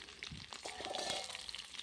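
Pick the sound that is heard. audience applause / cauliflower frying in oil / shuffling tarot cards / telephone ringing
cauliflower frying in oil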